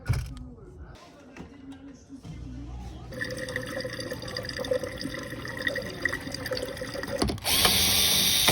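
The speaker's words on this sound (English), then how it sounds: "you can hear the motor trying to do its job." A struggling dishwasher motor gives a steady mechanical hum with faint clicking and running water, starting quietly and then growing louder and harsher near the end.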